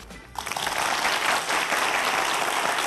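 A studio audience at a science lecture bursts into loud, sustained applause after a brief quiet start, dense clapping continuing evenly to the end.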